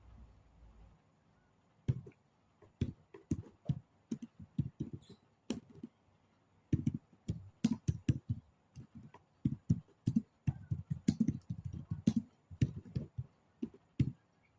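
Close, fast typing on a computer keyboard, with bursts of crisp key clicks coming in rapid runs separated by short pauses.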